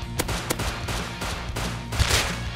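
Rapid bursts of gunfire in the survival game Rust, sharp repeated shots firing in quick irregular succession, loud and close throughout.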